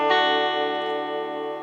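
An electric guitar, a Monoprice Cali Classic converted to HSS pickups, played through a Twin Reverb amp model: one strummed chord rings out loud and sustained, its tone slowly decaying.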